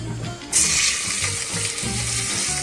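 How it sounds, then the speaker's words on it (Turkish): Diced onions hit hot oil in a frying pan and burst into a loud, steady hiss that starts suddenly about half a second in, with a low hum in the background. "Şimdi soğanlarımızı atıyoruz."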